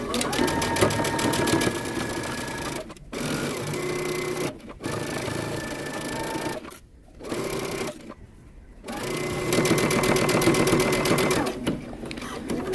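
A sewing machine runs in long fast bursts while stitching the seams of wide leg pants, close and loud, stopping briefly several times between runs.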